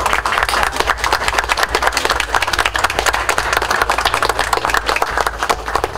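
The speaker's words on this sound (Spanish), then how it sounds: "pido un fuerte voto de aplauso" Loud, continuous clapping from an audience at a regional government education event, a dense and evenly sustained round of applause with no voices over it.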